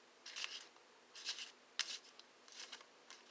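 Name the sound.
tarot cards being shuffled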